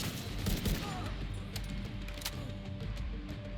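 Rapid bursts of automatic gunfire from a firefight in the video game The Division 2, cracking steadily at moderate distance over a dense, busy background for several seconds.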